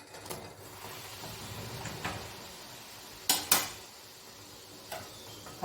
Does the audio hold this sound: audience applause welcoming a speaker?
no